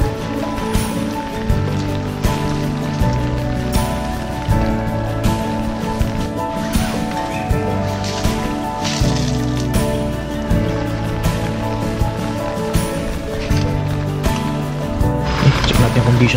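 Heavy typhoon rain pours steadily and loudly at a campsite during a Category 5 storm, a dense continuous wash with no break and no talking.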